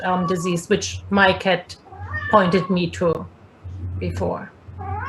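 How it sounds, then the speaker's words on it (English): A domestic cat meows in the background of an indoor room while a person speaks steadily over it, the cries mixed in under the talk with a low, steady hum. "Sorry, that's my cat in the background."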